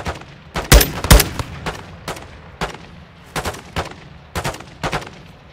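Gun run gunfire in Call of Duty Modern Warfare II, loud heavy shots and short bursts striking in irregular clusters, with sharp booming blasts early on and repeated volleys throughout.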